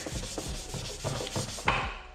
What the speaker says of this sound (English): And this is sanding by hand.